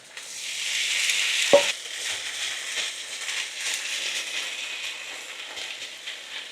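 Butter sizzling in a hot frying pan, a loud close hiss that starts at once, a brief clunk partway through, then a steady crackling sizzle that continues on its own.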